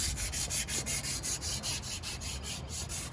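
Someone hand-sands a part of a Peterbilt 362 truck, producing a rhythmic back-and-forth scraping of about a dozen even strokes, close and fairly soft, with no voices.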